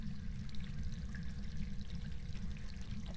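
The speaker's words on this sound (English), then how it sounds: "I don't remember the shower running itself." A shower runs in the Phasmophobia video game, a steady, quiet spray of water with a constant hiss and a low background drone, unbroken and without voices.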